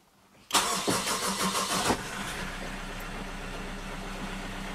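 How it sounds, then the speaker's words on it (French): A 2004 Toyota Avensis engine, just fitted with a new timing belt, cranks loudly for about a second and a half, then catches and settles into a steady, even idle, close up with no talking. "C'est parti, on va tenter le démarrage."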